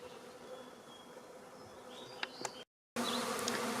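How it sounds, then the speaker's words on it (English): Honey bees buzz steadily around a hive, several passing close with louder drones, before a brief dropout and the buzzing returns. "Still full of bees."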